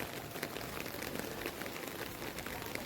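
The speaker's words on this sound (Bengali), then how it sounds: "এই বৃষ্টিটা না একদম বিচ্ছিরি, দেখো সেই সকাল থেকে যে হচ্ছে এক নাগারে" Steady rain has fallen since morning, a faint, even hiss of drops on surfaces without a break.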